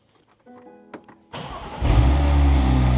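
BMW M4 race car engine fired up: a short whirring crank and fuel-pump whine, then a sudden loud catch into a harsh, booming idle that rises and holds, close and unmuffled.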